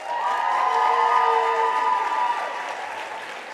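An audience applauds and cheers for an honoree at the Outstanding Mother Awards, a dense sustained wash of clapping with some voices rising above it, fading slightly toward the end.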